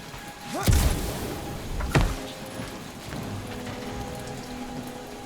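Steady rain falls in the video game Guardians of the Galaxy, a dense hiss throughout with two heavy thudding impacts early on, one like a rumble of thunder, and no talk over it.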